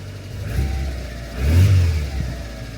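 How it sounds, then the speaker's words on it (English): A healthy Mazda Miata engine with new lifters and timing belt revs up from idle with a clear rising-and-falling blip, heard up close and alone, then settles back to a low idle. "Here, let me give a little rev."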